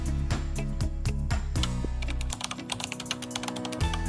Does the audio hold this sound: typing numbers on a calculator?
yes